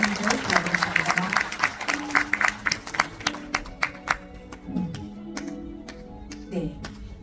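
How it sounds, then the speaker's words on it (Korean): Applause from the audience at a national poetry recitation contest for people with disabilities, a scattering of claps with speech and background voices running through it. "다시 한번 큰 박수 부탁드리겠습니다."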